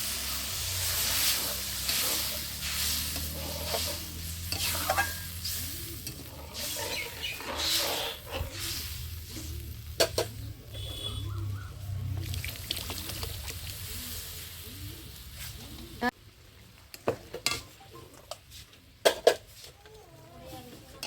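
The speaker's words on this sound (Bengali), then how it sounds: "মশলা ভালো করে কষানো হয়ে গেছে, জল দিয়ে দিচ্ছি" Water hits a hot pan of fried spice paste, throwing up a loud, continuous hiss and sizzle that fades to bubbling, with a few sharp clinks and scrapes of a utensil near the end.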